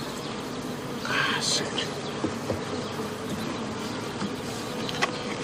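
Bees buzzing around a hive, a steady insect drone close by with a brief louder swell near the start, while a person talks softly over it.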